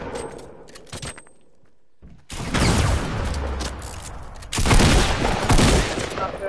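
Loud, close gunfire in a battle royale video game, with sustained bursts of automatic fire and sharp shots filling the stretch after a brief quieter lead-in.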